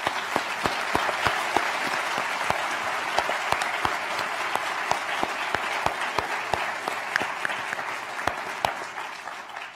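A museum audience at an evening panel discussion on race gives sustained, loud applause lasting nearly ten seconds. Dense clapping is punctuated by sharp, distinct individual claps, and no one speaks.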